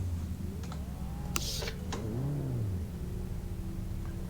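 A BMW E30 wagon in the Assetto Corsa racing sim on an ice drifting track revs quickly, its engine pitch sweeping up and falling back, with a few sharp clicks and a low rumble beneath.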